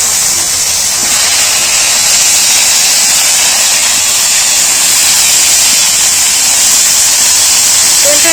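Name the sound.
potatoes and eggplant frying in hot oil with five-spice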